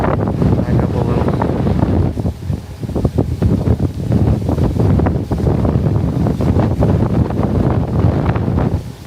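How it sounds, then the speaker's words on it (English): Strong wind gusts buffet the microphone outdoors at the Surf Ballroom, a loud, continuous roar with rumbling bursts throughout, with no clear talk over it. "Very windy."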